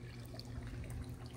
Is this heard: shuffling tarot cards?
no